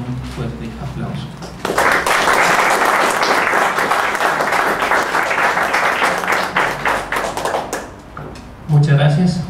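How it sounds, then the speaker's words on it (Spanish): Loud, dense applause swells up after a short spoken introduction and rolls on for several seconds, fading briefly before voices return, greeting a guest speaker at an industrial safety talk. "quisiera pedirles que lo recibiéramos con un fuerte aplauso"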